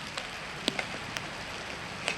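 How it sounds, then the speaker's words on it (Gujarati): Heavy rain pours steadily on a flooded village road, a dense wash of hiss broken by scattered sharp drop splashes and ticks, with no voices. "કેટલો બધો વરસાદ આવ્યો આજ તો."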